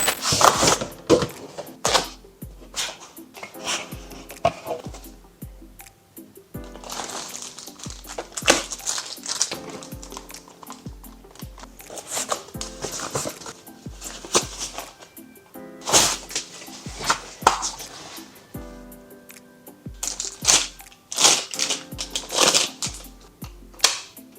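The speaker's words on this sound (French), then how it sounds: "on va déballer tout ça" A Nintendo Switch 2 console is unboxed by hand: repeated crinkling, tapping and rustling of packaging material come in clustered bursts with short pauses between them, close to the microphone and with no talk.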